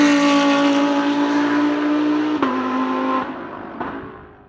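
Ford Mustang Mach-E GT electric car driving hard on a race circuit, a loud steady whine of motor and tyre noise with a shift in pitch midway and fading slightly toward the end, no voices.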